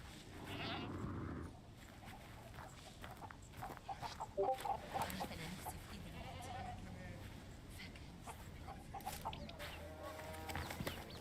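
Goats bleat in a video game on a farm, with repeated animal calls mixed with clucking fowl sounds over game background noise, close and moderately loud.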